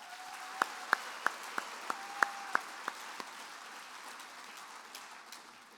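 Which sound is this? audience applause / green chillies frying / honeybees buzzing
audience applause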